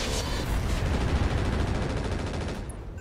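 Missile salvo fired in the mech video game RogueTech, a dense continuous barrage of blasts and rumbling roar filling the full span at steady loudness, trailing off slightly near the end.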